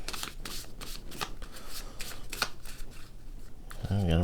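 A 14-card deck of Dissenter game cards is shuffled by hand in a series of crisp riffling bursts, close and fairly loud, with a brief low hum entering at the very end.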